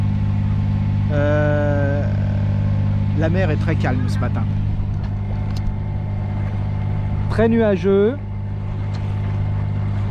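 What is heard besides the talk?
sailboat engine running while motoring at sea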